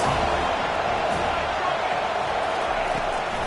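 Steady roar of a football stadium crowd in a college football video game between Tennessee and FSU, a dense continuous wash of cheering with no distinct peaks, a voice talking faintly underneath.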